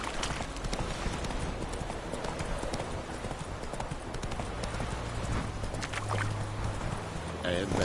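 Hooves of the horse Roach pound in a rapid, steady clip-clop gallop in The Witcher 3, continuous and fairly close, overlaid with dense game ambience and occasional other sounds.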